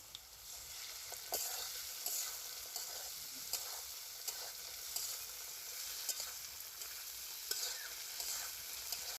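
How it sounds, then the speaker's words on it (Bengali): Vegetable stalks sizzle and fry in oil with black cumin paste for a village-style pabda fish curry, a steady crackling hiss close by with occasional sharp pops and stirring clicks, no voices. "ডাটাটা প্রায় ভাজা হয়ে গেছে, হালকা একটু জিরা বাটা দিয়ে দিই, একটু কালি জিরা বাটা দিয়ে দিই।"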